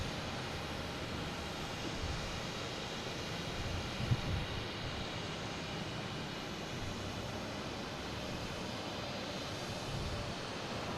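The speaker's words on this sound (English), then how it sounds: "We got Frontier coming in here from Atlanta in A321neo." A Frontier Airbus A321neo lands at Boston Logan, its engine roar a steady, broad rush that holds at an even level throughout, with no voices.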